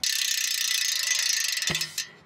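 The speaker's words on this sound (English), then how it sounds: "As for the sound of this hub, this is pretty loud." Rapid, loud ratcheting clicks from the freehub of an EliteWheels DRIVE G45 carbon gravel wheel, buzzing continuously for about two seconds before slowing and stopping with a couple of final clicks.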